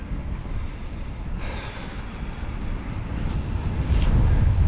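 Wind buffets the microphone during a bike ride on a 12-degree day, a constant low rumble that grows louder and heavier toward the end.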